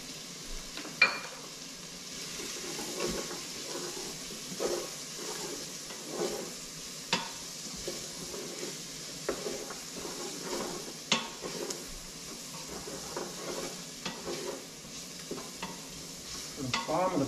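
Onions frying in an Instant Pot with sticky molasses, a continuous close sizzle broken by repeated scraping and clinking strokes of a utensil stirring against the pot, no voices.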